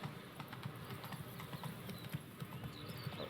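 Horse hooves clip-clop at a steady walking rhythm in The Witcher 3, fairly faint with light ambient game sound behind them.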